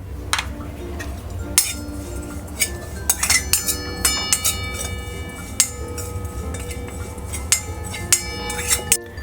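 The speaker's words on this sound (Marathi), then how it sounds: "त्याच भांड्यात आता आपण सफेद तीळ भाजून घेऊया" White sesame seeds roast in a pot while a spoon stirs them, giving irregular metallic clinks and scrapes against the pot over a low steady hum from the stove.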